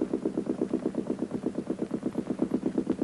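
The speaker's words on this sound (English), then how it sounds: "The 25-foot motorboat has a speed of about 8 knots and is used for carrying personnel and stores." A 25-foot naval motorboat engine runs at a steady pulsing chug, an even rapid beat of low throbs with no break, heard close and alone.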